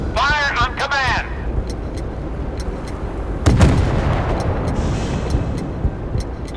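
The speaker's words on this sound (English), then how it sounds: "Ready to open fire on the enemy." Warship guns firing in the naval video game Force of Warships, a loud boom with a rumbling tail after a brief burst of game voice, over constant engine and sea noise.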